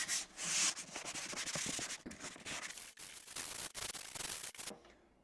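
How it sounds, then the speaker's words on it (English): Old plaster bits being sanded off a surface by hand with gentle sandpaper, a close, steady run of rapid rasping scrapes that drops off abruptly near the end. "there's some old bits of plaster that have found its way onto it there that I need to sand off"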